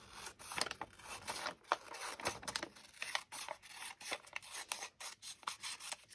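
Scissors snip and rasp through botanical washi sticker paper in a quick series of close, quiet cuts, with soft rubbing and paper handling between them and no speech.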